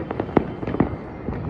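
Firecrackers burst during Uttarayan kite festival celebrations in Ahmedabad, several sharp cracks in quick succession with distant pops scattered between them, fairly close and without talk.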